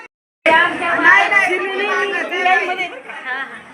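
A large crowd of pilgrims queues for darshan at a Maharashtra temple, their voices blending into dense, continuous chatter at close range after a brief silent start.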